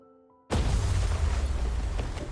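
A sudden deep explosion in the video game Love and Deepspace bursts in after a brief quiet musical tone, then rumbles on loudly and steadily with a low, heavy boom.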